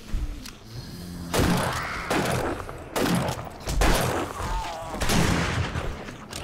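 Repeated bursts of gunfire against zombies in the survival game 7 Days To Die, heavy booming shots in uneven volleys at close range with a few short gaps between them.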